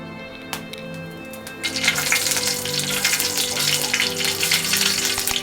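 Mustard seeds hit hot oil for tempering a spicy chutney, and a sudden crackling sizzle bursts in after a quieter start. It keeps up a dense, bright frying hiss with small pops, close and fairly loud.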